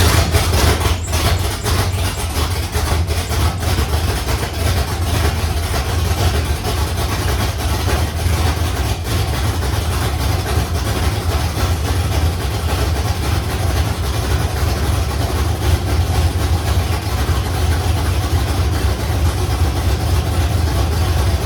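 A nitrous-fed LS-swapped Ford Fairmont engine runs at a steady rumbling idle for the whole stretch, loud and close, with a brief rougher patch at the start and no talking.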